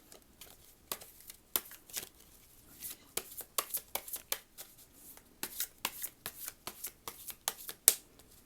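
Tarot cards shuffled by hand at close range, a fast run of crisp riffling clicks and flutters, irregular but nearly continuous, quiet and heard alone without speech.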